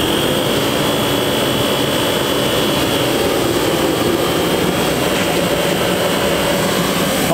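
Portable heater switched on and running inside the engine bay of a 2018 Cummins truck: a loud, steady, continuous roaring blast with a faint whine, close and unchanging throughout.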